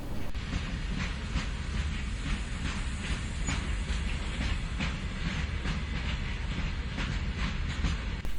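A passenger train runs on tracks through rural Pakistan between Jand and Attock, with a steady rumble and a repeated clickety-clack of wheels on rail joints, heard from inside the carriage and alone.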